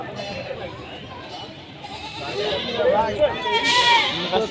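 Goats bleating amid a busy livestock market at Rustampur, Rajshahi, wavering cries rising over a background of people talking and crowd chatter.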